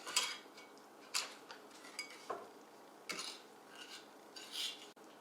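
A spoon stirs ground beef in a pan, giving scattered scraping and clinking knocks of metal on the pan at an uneven pace over a quiet background, close and without speech.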